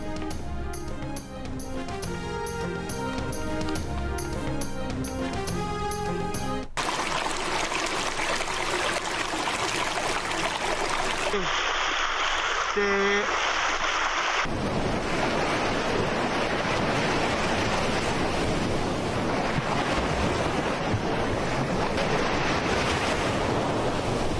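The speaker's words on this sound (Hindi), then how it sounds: "दरियाए चिनाब का सैलाबी रेला मुल्तान डिवीजन की हदूद में पहुंच गया" Floodwater on the Chenab River surges and rushes as it reaches the Multan Division, a loud, continuous roar of turbulent water broken by abrupt cuts between different shots.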